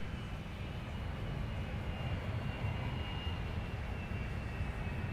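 A Delta jet airliner takes off from runway 17 at Minneapolis–Saint Paul airport, its engines a steady, broad roar that holds at a constant distance for the whole stretch with no talk over it.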